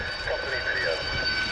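Spanish Navy Harrier II EAV-8B+ jets taxi past at an air show, their engines giving a steady roaring whine with a rising tonal sweep, heard fairly close under a voice talking.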